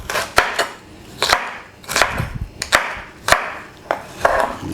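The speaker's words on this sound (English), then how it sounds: "these I'm going to cut really, really finely" A knife chops vegetables finely on a cutting board for vegan cooking, with sharp, irregular taps coming in quick bursts and short pauses between them, close and clear with no talking.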